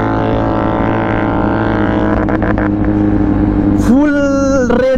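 A Kawasaki Z900 motorcycle roars past at full revs during a wheelie flyby on a road, a loud, sustained engine howl close by that rises in pitch near the end.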